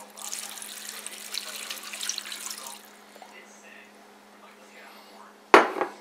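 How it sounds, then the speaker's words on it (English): Water poured into a pot of cabbage on a stove over medium-high heat, a steady broadband splashing and gurgling stream for about three seconds that fades to quiet, followed by a single sharp clank near the end. "we're going to add for now 2 cups of water"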